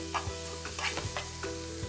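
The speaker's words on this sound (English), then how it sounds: "I'm going to add my onions to the hot pan that I cooked my steak in. And just saute these around" Onions sizzling and being stirred in a hot pan that was just used to cook steak, a steady close frying hiss with soft intermittent scrapes and clicks of the spatula moving them around, no talking.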